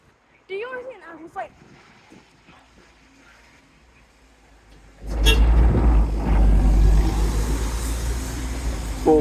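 A bus at Crawley bus station, route 100 to Redhill, pulls through with a loud low engine rumble that swells after a quieter opening in which a voice briefly talks, then holds steady nearby.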